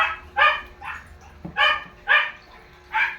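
A dog gives a series of sharp, high yipping barks in quick bursts, close and loud, during play training to fetch a thrown object, with short gaps between each bark.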